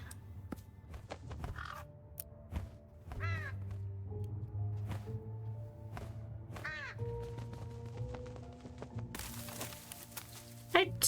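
A crow caws a few times in a video game, sharp repeated calls over a low steady background hum, with a voice talking at points.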